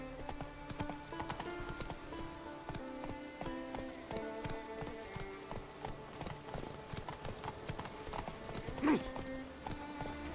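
Roach, Geralt's horse in The Witcher 3, walks with a steady clip-clop of hooves over ambient game music, close and even in rhythm, with a brief horse sound near the end.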